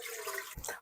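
Milk pours into a pan for carolinas choux pastry dough, a short close gushing splash under a second long that ends with a soft low slosh.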